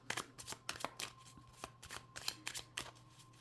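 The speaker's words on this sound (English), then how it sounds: "I'm gonna shuffle one more time" Tarot cards are shuffled in quick riffling bursts, close and fairly soft, repeating in an irregular rhythm over a faint steady hum.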